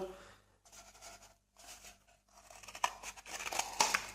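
Scissors cut out a craft piece in repeated snipping strokes with short pauses between them, close and fairly soft, with a voice speaking intermittently over the cutting.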